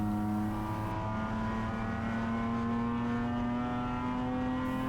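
A Porsche race car engine at Sydney Motorsport Park, Gardner, drones loud and close with a steadily rising pitch under sustained acceleration, with no talk.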